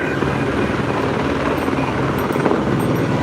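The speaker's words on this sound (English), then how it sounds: "Chopper ahead, overhead" Police helicopter over downtown Los Angeles near 2nd and Broadway during a night street protest, a steady broadband rotor drone holding continuously at moderate loudness with no voices.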